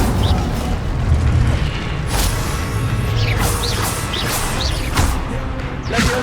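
An Incendio fire spell is cast in the Hogwarts Legacy video game, with whooshing bursts and booming impacts amid busy combat effects and a voice calling out in the background.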